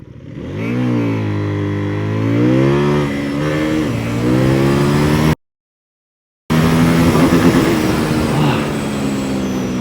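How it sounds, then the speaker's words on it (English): A 2024 CFmoto 800NK motorcycle with traction control and anti-wheelie accelerating hard at full throttle, its loud engine note rising and falling through gear changes, a brief dropout midway, then revving again. "every time I try to accelerate, bike goes up. It does the wheelie"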